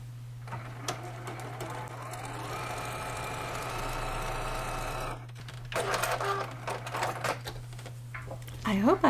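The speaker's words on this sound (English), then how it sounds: "I hope I fixed the noise of my sewing machine so that you can hear it now" A sewing machine stitches a quilt seam in a steady, close, even-paced whir for several seconds, then stops and a voice begins talking over a low constant hum.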